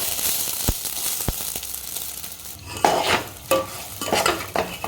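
Rice roasting in ghee in a pot for sweet khichdi, with scraping stirs and clinks of a spatula over a soft sizzle, the strokes louder and more frequent toward the end.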